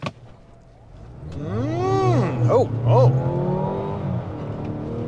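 A 2024 Mazda CX-90 plug-in hybrid pulls away hard from a stop, heard from inside the cabin as a loud, rising electric whine and a building drivetrain hum that swells over several seconds and then settles into a steady drone.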